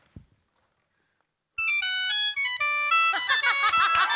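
A sheng, the Chinese free-reed mouth organ, imitates a mobile phone ringtone: a bright, loud run of stepped melodic notes that thickens into dense chords after a brief near-silent start.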